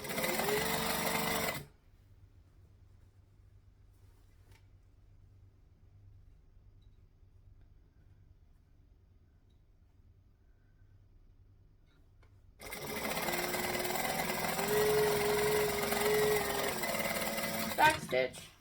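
A sewing machine stitches along the edge of a seam on a travel bag in two loud bursts of steady whirring, one at the start and a longer run near the end, with near silence between them.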